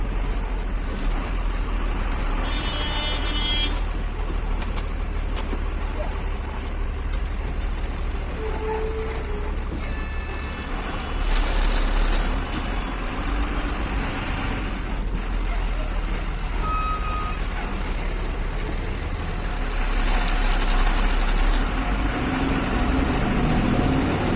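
Trucks at the Pimpalgaon toll plaza near Nashik rumble steadily with continuous road noise, a few reversing beeps and brief air-brake hisses mixed in, while voices talk faintly over the traffic.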